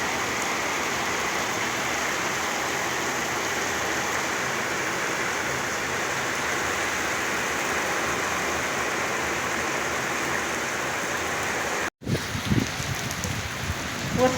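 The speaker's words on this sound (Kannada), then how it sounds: "ವರ್ಷದ ಮೊದಲ ಮಳೆ." The first rain of the year pours down in a dense, even hiss of drops on surfaces, steady for most of the span before a short break and some closer rustling at the end.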